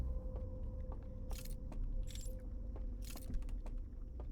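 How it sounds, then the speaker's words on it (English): In the video game Echoes of the Eye, a few soft, spaced, rustling footstep-like bursts sound over a low, steady ambient rumble, with no talking. "And then it sounds like footsteps"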